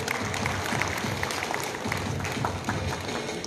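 Audience applause at a political event with a minister and an MLA in Satara, a steady dense clapping that holds at even loudness throughout, fairly close, with no talk over it.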